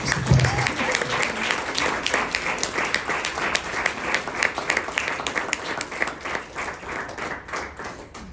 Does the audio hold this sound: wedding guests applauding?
yes